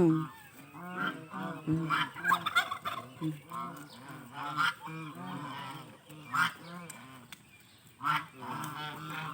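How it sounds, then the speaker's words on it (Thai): Geese honk repeatedly in a noisy barnyard chorus, with turkeys gobbling, ducks and chickens calling nearby, loud and continuous. "มีห่าน มีเป็ดค่ะ"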